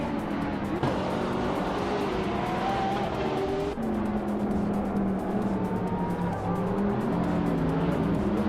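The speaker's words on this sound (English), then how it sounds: "Meg's Boring Life is driving a 2015 Dodge Challenger Hellcat" A 2015 Dodge Challenger Hellcat in a racing video game roars continuously, its engine pitch rising and falling through gear changes, with tire squeal and the layered drone of other cars close by.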